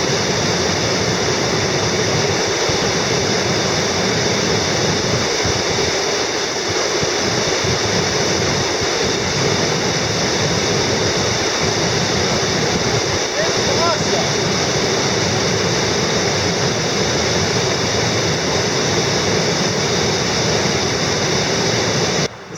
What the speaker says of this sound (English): Look at them rapids, man.